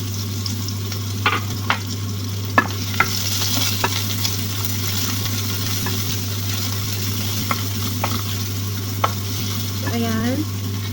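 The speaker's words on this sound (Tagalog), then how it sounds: "Habang binigisa natin ang sibuyas." Onion and a little garlic sautéing in a pan for bitter-melon omelette, with a steady low hiss, scattered pops and clinks of stirring, close by and with no talking.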